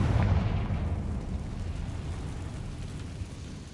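A Confringo fire spell bursts in the Hogwarts Legacy video game: a loud, deep explosive boom at the start that rolls into a rumbling, crackling tail fading over a few seconds.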